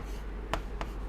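Pen or chalk writing by hand during a maths lesson, two short scratchy strokes close by over a steady low background hum, no voices.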